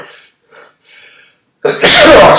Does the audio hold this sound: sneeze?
yes